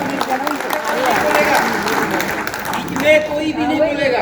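A hall audience gives loud, sustained applause with cheering to welcome Akash Lama onto the stage at a public gathering in Raipur. The clapping holds steady for several seconds, with a brief swell near the end.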